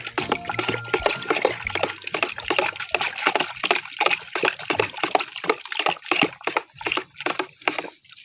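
Powdered wettable pesticide is stirred into water for treating chili plants, giving repeated close sloshing and splashing strokes in a quick irregular rhythm.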